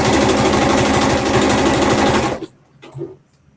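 Sewing machine stitching fabric for a top, a loud steady mechanical whir that runs continuously for over two seconds before stopping abruptly, followed by quiet room noise.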